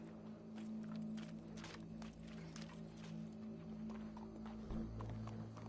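Horse hooves clip-clopping in a Red Dead Redemption 2 game scene, a steady walking rhythm over a continuous low ambient hum and background bustle, moderately loud.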